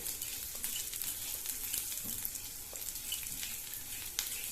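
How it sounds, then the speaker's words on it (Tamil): Black urad dal dry-roasting in a pan for idli podi makes a steady, soft crackling sizzle with scattered small pops throughout, and no voices. "உளுந்து வறுபட இன்னும் 1 நிமிஷம் டைம் எடுக்குங்க."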